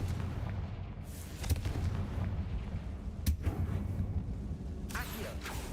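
A Confringo fire spell blasts off in Hogwarts Legacy inside a spider-infested tomb, giving a couple of sharp booming bursts over a constant low rumble of game ambience.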